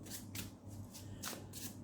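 Tarot cards are shuffled in quick, soft riffling bursts that repeat in an uneven rhythm, close and quiet, with no talking.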